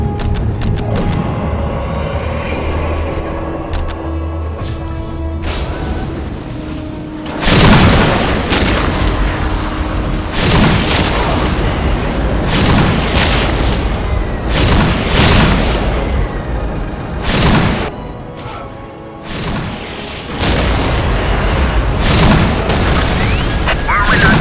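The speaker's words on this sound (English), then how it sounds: "Whirlwind artillery tank here. Whirlwind here. Whirlwind here. As you command. Death from above." Whirlwind artillery tank shelling in Dawn of War, a Warhammer 40k strategy game: repeated heavy booming launches and impacts, some clustered, others spaced a few seconds apart, over a constant battle din.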